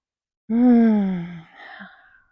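A single deep, voiced exhale during a yoga breathing practice, loud and close, tapering off over about a second with a softer breathy tail.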